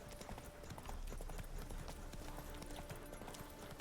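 Roach the horse galloping in The Witcher 3: Hearts of Stone, a rapid, steady clip-clop of hooves close by throughout, fairly faint, with a little ambient game sound.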